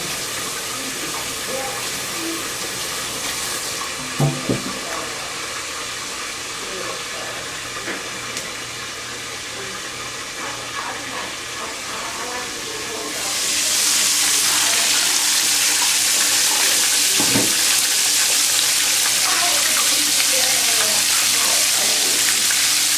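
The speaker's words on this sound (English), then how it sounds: "I just want to rinse my hands." A kitchen sink tap runs water for rinsing hands while fried chicken tenders cook, starting partway through with a sudden steady rush after a quieter stretch of low background hiss and a few faint clinks.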